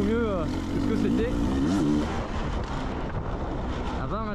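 An enduro motorcycle prepared for world enduro competition rides a winding trail, its engine rising and falling through rapid revs up close, with wind noise on the microphone.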